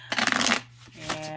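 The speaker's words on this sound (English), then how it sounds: "I like the way it sounds when it shuffles" A thin, very flexible Egyptian tarot deck (Schwaller de Lubicz) is riffle-shuffled up close: a brisk burst of rapid card flutter that stops, then a shorter second riffle.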